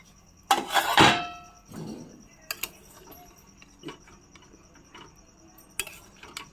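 Metal pot lid lifted off a pot of cooking chicken: a couple of sharp clanks and a scraping clink near the start, then scattered small taps and ticks of cookware, all close and fairly quiet.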